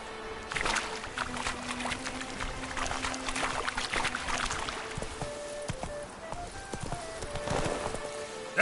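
Hooves of the horse Roach clop steadily in The Witcher 3: Blood and Wine, a brisk rhythmic gallop running throughout with faint background game ambience and a few tonal cues.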